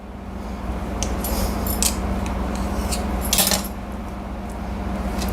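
A knife cuts tightly rolled dough into pieces for a crispy tea-time snack, making a few soft, close clicks and taps against the board over a steady background hum, with no talking.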